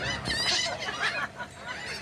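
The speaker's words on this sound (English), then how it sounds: "The laughing gulls are getting a little impatient with me here" Laughing gulls calling near a shrimp boat, a burst of harsh, overlapping squawks that rise and fall over about two seconds, fairly close and loud, with no voices.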